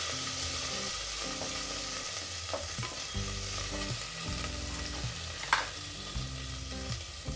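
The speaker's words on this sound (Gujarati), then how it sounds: "છે આદુ મરચાંની પેસ્ટ એમાં બે મિનિટ સાતડી લેવાનું છે ઘીમાં બધું" Ginger and green chili paste sizzles in ghee for a seven-grain khichdo while a spoon stirs and scrapes the pan in repeated close strokes.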